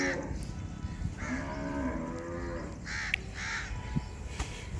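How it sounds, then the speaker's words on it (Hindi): A pure Nili breed bull lets out several drawn-out moos, close and fairly loud, while crows caw sharply in the background. "ये जी हमारा लुडनिया वाला बुल है जी,"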